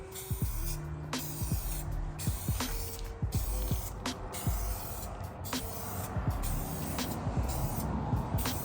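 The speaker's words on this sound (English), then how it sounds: "Do a couple test sprays here, make sure your spray pattern's good." Short bursts of aerosol spray hiss repeat irregularly over a steady background rumble, close and fairly loud, with no talking.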